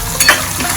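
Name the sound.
stirring green onion curry in a pan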